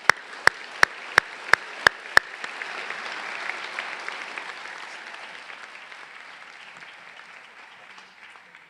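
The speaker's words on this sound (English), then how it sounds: "I just want to give you a round of applause." Applause at a graduate hooding ceremony opens with about seven sharp, evenly spaced claps close by, then spreads into a softer crowd clapping that gradually tapers off.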